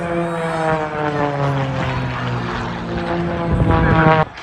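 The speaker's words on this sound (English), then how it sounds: "Nice example of Chris doing aileron rolls in the 300. Amazing pass." An aerobatic propeller plane, a 300 rolling through a pass at an air show, drones loudly with a steady buzzing prop tone that swells toward the end, with a commentator talking over it.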